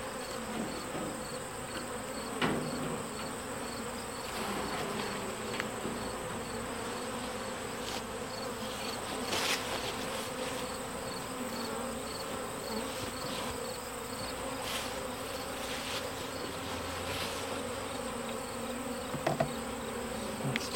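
Honeybees buzz continuously around beehives, a dense, even hum of many insects close by, with a few louder bees passing near at moments and no talk.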